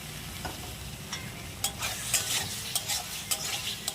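Chicken pieces fry in a pan of cooked-down spice masala with a steady sizzle, broken by several sharp scrapes and clinks as a spoon stirs and turns them.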